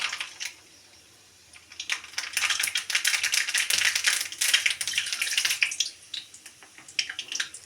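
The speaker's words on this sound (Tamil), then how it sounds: "கடுகு நல்லா பொரியட்டும்." Mustard seeds splutter and pop in hot sesame oil while a fish kuzhambu is being made, giving rapid, crackling bursts that start after a brief lull and stay loud and busy to the end.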